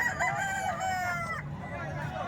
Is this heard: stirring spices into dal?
no